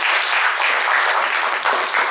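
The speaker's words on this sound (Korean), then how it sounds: "여러분 지금 말씀하신 게 옳다고 생각하시고 박수 한번 쳐주시겠습니까?" Audience applause at an Incheon art association leadership candidate debate, a dense, even patter of many hands clapping continuously at close range throughout, with no voices over it.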